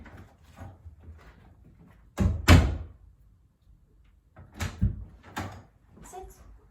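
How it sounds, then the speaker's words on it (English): A house door opens and closes as a dog trainer walks in and out, giving a couple of heavy thuds and a bump with a few lighter knocks, while a person talks softly in the background. "I'm going to go in and out of the door"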